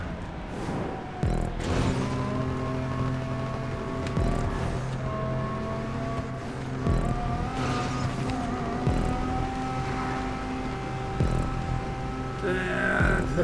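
A race car engine in GTA 5 Online roars steadily through turns, revving up and down with repeated gear shifts and brief dips, loud and close with occasional tire squeal.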